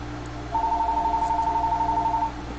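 A telephone rings with a single steady electronic tone, loud and close, lasting close to two seconds, with no talk over it.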